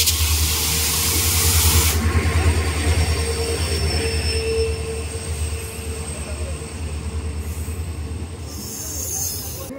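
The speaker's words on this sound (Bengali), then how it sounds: "2 নম্বর প্ল্যাটফর্মে আসছে আমাদের ট্রেন" A superfast express train rolls into a station platform, a loud rumbling roar with squealing wheels and a brief hissing burst at the start, the noise easing slightly as it slows.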